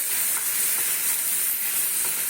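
Mung puli pieces frying in hot ghee give a steady, close sizzle with a soft broadband hiss that holds evenly throughout, no voices over it.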